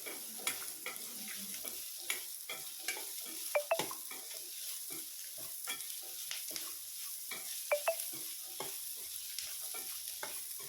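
Shallots sautéing in a pan for thoothuvalai chutney, a soft background sizzle broken by frequent sharp clicks and scrapes of a spoon stirring against the pan, with no voices.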